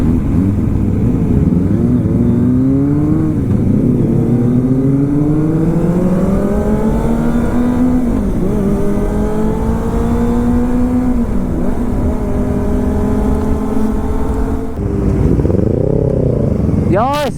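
Kawasaki motorcycle with a loud aftermarket exhaust revving on an empty mountain road in Japan, the engine note rising slowly and steadily for long stretches, dipping briefly, then climbing again to a sharp high rev at the end, very close and loud.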